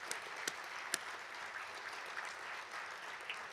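Distant, fairly quiet applause from an audience honoring maintenance, housekeeping and cafe staff at a spring awards ceremony, a steady wash of clapping with a few sharper individual claps standing out.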